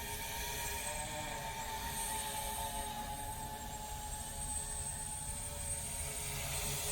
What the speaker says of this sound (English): And other than that, it's a simple drone to fly. So I'll just take it for a little spin.